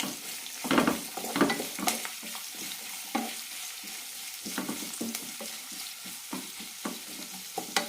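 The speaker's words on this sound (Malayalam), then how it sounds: "പച്ചമുളക് കീറിയതിടാം കറിവേപ്പില സവാള അരിഞ്ഞത് നന്നായി വഴറ്റാം" Sliced onion, slit green chilies and curry leaves sautéing in a pan for chicken mappas curry, a crackling sizzle punctuated by repeated close spoon stirs and scrapes, fairly soft, with no voices.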